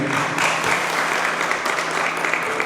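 Church congregation applause during a service, continuous dense clapping at a fairly even, moderately loud level throughout.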